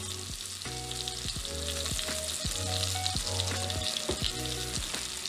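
Scallops fry in a hot pan alongside chopped tomato, a steady broad sizzle running throughout with several short clinks or scrapes of a utensil against the pan, close and fairly loud with no talking.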